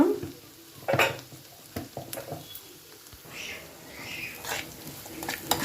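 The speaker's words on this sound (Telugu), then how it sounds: "బాగా కలిపేసాను" Egg mixture being stirred in a frying pan, with soft sizzling and intermittent scraping and stirring sounds, fairly quiet and close, a few sharper clinks of the utensil against the pan.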